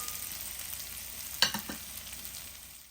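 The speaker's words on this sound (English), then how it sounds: "We're going to allow our onions to release those sugars in order to have it caramelize some more." Onions and bacon fry in a pan with a steady, close sizzle, broken midway by a brief scrape of stirring; no voices.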